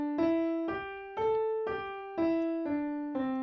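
Piano playing a C pentatonic blues line with a quick, jazzy slide through the blue note, seven even notes in a steady rhythm, close and clean with no talking.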